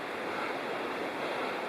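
A river roars through Bald River Gorge wilderness near Bald River Falls along Tellico River Road, heard from a trail as a steady, even rushing wash that stays constant and fairly faint, with no talk.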